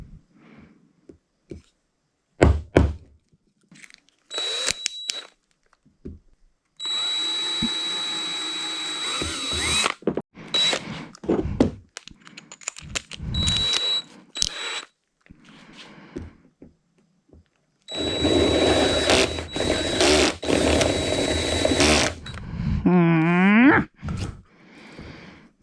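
A power drill bores a guide hole through a plastic kayak hull in several separate bursts, loud and close, each run of whirring cut by short pauses and light handling clicks.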